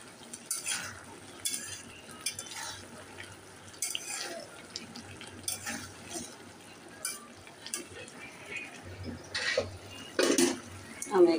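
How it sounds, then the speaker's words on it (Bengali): Shrimp and okra curry is stirred in a pan as it comes to a boil, with soft intermittent scraping and bubbling taps at close range and a few louder clinks near the end; low background noise runs throughout. "তরকারিটা বলক এসে গেছে, আমি এবার একটু নাড়াচাড়া করে দিচ্ছি।"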